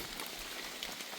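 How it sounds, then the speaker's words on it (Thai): Steady rain falls in deep, misty high-mountain forest in Laos, a dense, even hiss of drops on leaves and surfaces that holds at a constant level throughout, with no voices. "แต่ว่าเนื่องจากว่าฝนตก"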